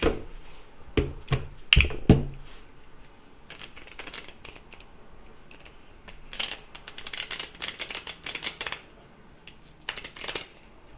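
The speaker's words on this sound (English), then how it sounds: "One more shuffle." Playing cards shuffled by hand in a series of crisp riffling bursts with sharp clicks and flutters, louder at first, then lighter, quicker runs, with no talking.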